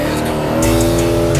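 A rare 1,000-horsepower Porsche engine revs hard, a loud, close, sustained roar that swells sharply partway through and holds at full intensity.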